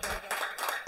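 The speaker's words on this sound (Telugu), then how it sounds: "చప్పట్లు కొట్టండి ఒకసారి" An audience claps in a quick, even rhythm for a brief moment, several loud beats close together, with a voice audible alongside.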